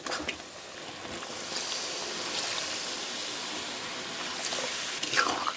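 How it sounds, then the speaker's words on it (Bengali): A small splash of water poured into a pan of olive pickle cooking with jaggery, a soft continuous trickling and hiss over a steady background, no voices. "এখন একটু সামান্য জল দিয়ে দিব।"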